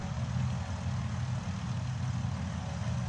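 A Piper Seneca aircraft engine in the X-Plane 12 simulator runs with a steady, loud, low drone, even and unbroken throughout, with no voices on top.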